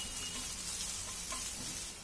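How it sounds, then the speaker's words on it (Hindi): Onions and green chillies for mixed fried rice sizzle softly and steadily in a pan, a low continuous hiss with faint stirring and no voices. "अब इन सभी चीजों को मिक्स कर लेते हैं पहले और थोड़ा सा भून लेते हैं इसको"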